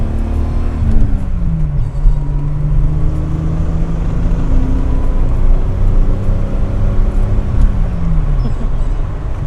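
A 1977 Datsun 280Z with its 2.8-litre six-cylinder engine, driven and taken up through the revs, giving a steady, close drone whose pitch climbs and falls in smooth sweeps over a continuous low rumble, with no talking.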